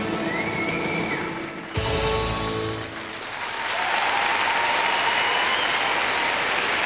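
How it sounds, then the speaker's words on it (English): At a 1999 Nations Cup figure skating pairs short program, an arena crowd breaks into a broad wash of applause that rises and holds steady after a brief musical passage. "a great hand from the crowd"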